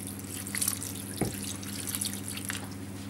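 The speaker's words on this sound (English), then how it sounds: "If there's not sufficient liquid in the pan, then just add a bit of water to it." Water poured into a cooking pan at home, a short splashing trickle over a steady low background hum, with faint drips scattered across the moment.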